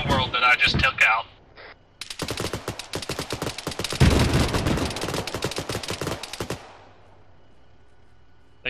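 Enemy gunshots in a tactical video game: a dense run of rapid, sharp automatic shots crackling close and loud for several seconds, following brief voice chatter, then fading into quiet ambience.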